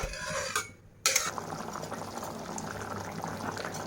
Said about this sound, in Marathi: मस्तपैकी कालवण असं उकळत आहे